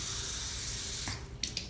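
A can of water pours into tomato paste for pizza sauce as a steady close splashing rush that stops abruptly, followed by a couple of light clinks.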